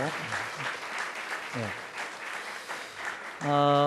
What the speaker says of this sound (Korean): 우리 환영의 박수로